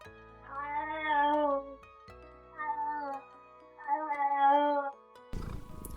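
Three long, insistent meows from a lonely cat, close and loud, evenly spaced, followed by a brief rustle at the end.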